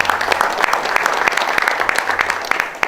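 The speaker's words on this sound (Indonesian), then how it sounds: "tepuk tangan dong semua" An audience claps at a political gathering in Indonesia, a dense, loud burst of applause with sharp individual hand claps standing out, without talk.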